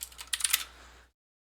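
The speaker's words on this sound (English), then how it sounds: "So I'm going to type float" Code typed on a computer keyboard, a short close burst of quick key taps that stops abruptly into silence after about a second.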